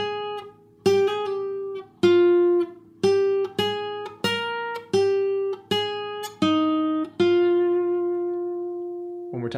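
Clean electric guitar plays a Mixolydian lead lick, a string of distinct picked notes with hammer-ons in a steady phrase, ending on a held note with vibrato that rings out and fades, close and alone.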